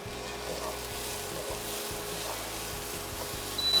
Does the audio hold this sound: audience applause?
no